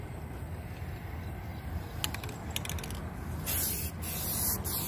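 Rattle can of spray paint hissing in short close bursts, brief pulses at first followed by longer continuous sprays toward the end, fairly quiet overall.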